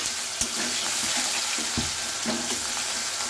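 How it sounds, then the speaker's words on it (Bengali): Chopped onion with bay leaves fries loudly in hot oil, a dense hissing sizzle up close with scattered scraping stirs throughout. "পেঁয়াজ কুচিটা দিয়ে দিচ্ছি দিয়ে আমি এভাবে নাড়িয়ে নিচ্ছি একটু"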